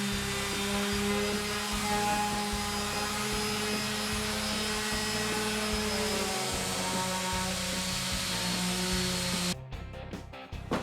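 An electric sander works across a pallet wood table top with a steady, close whirring drone that holds for several seconds before cutting off near the end.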